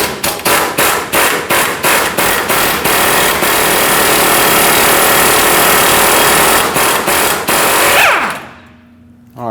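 A pneumatic impact gun rattles in bursts and then runs continuously to break loose a stuck nut on a lower control arm of a 2005-2021 Nissan Frontier 2WD. The sound is loud and close and stops abruptly near the end.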